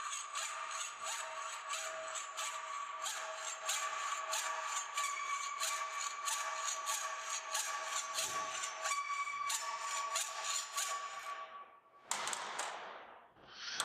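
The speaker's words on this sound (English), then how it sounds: "Once the blade is engaged into the work part, we can start our cut using both hands and a very light cutting pressure." A hacksaw cuts a metal part clamped in a vise using light, even strokes, producing a continuous rasping scrape with regular stroke rhythm up close and no talking.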